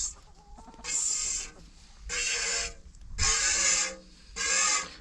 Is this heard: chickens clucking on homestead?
yes